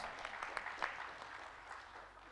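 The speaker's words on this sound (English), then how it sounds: "Let's give her a round of applause" Audience applause for a speaker after a presentation on hydrogen energy security at an industry conference panel, a steady broadband patter of clapping across a hall with a few sharper claps standing out.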